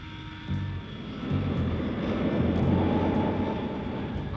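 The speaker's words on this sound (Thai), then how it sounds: "เครื่องบินปกป้องสินค้าทางอากาศได้ลำเลียงจรวดไฮโดรเจนมิสไซล์อยู่บนท้องฟ้า" A cartoon sound effect of a cargo transport aircraft carrying a hydrogen missile through the sky: a steady droning engine that swells louder and holds, with no speech.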